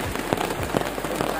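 Heavy rain pours steadily on a surface, a dense continuous patter with scattered sharper drops, fairly close and uninterrupted.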